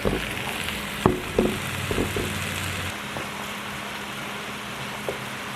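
Mushrooms sautéing in a pan for tagliatelle, a steady sizzle with a few clinks and scrapes of stirring early on, then a quieter continuous frying hiss with no voices.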